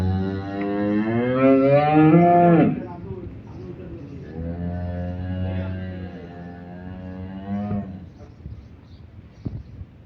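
A cow moos loudly nearby on a dairy farm as cattle are untied for loading onto a vehicle, one long drawn-out call followed by a second lower moo, with some faint background noise.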